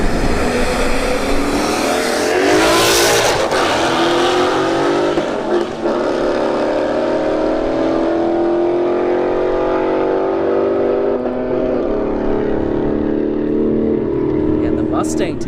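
A BMW 5 Series and a Mustang launch side by side in a street drag race, their loud engines roaring and rising in pitch as they accelerate away, with a commentator talking over them.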